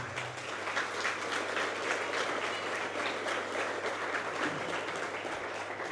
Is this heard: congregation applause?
yes